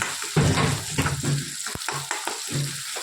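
Tomatoes, green chilies and green garlic being stirred in a pan, with a steady sizzle of frying and repeated scraping strokes of a spoon close by.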